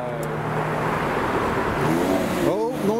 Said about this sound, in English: the downshift from the C43